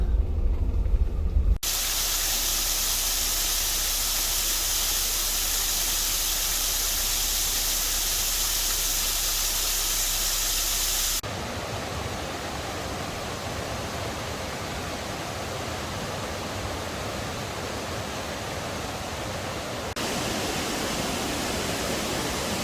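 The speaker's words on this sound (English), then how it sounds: "Elk Creek Falls, Siskiyou National Forest." Elk Creek Falls in Siskiyou National Forest, a steady broadband roar of falling water that holds constant at close range with no voices, shifting in tone at a couple of points as the view changes.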